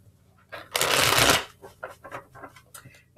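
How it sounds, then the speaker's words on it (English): A deck of tarot cards riffled in one close, dense burst lasting about half a second, followed by softer handling noises, light taps and rustles. "Can't remember if I did a full shuffle on my cards or not, so we're gonna do a full shuffle."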